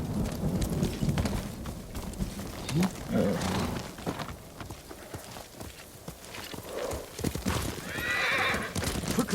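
A horse whinnies and its hooves clop in the samurai video game Ghost of Tsushima, set on Iki Island, with neighs rising over busy ambience and voices talking throughout.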